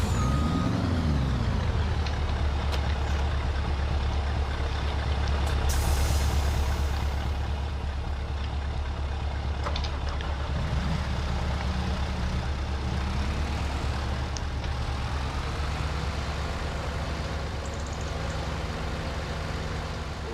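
A truck tows a trailer along a road in Farming Simulator 25 on the Elmcreek map, its diesel engine rumbling low and steady, with a brief hiss of air brakes partway through.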